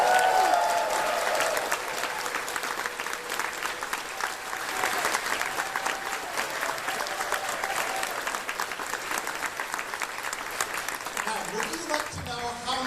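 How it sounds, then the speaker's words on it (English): A large audience at a convention closing ceremony claps and cheers steadily for several seconds, a dense, even wash of applause with a voice over the speakers near the end. "Let's give them a big cheer."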